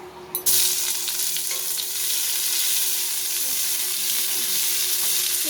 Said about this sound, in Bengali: এবার এতে দিয়ে দেবো পেঁয়াজ কুচি।